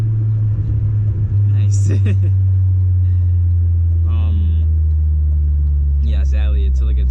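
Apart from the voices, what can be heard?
Audi B6 A4 with ECS catback exhaust driving at night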